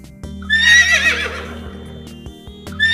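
A horse gives a single loud, close whinny that trails off over a couple of seconds, with a brief start of another at the end over a low steady hum.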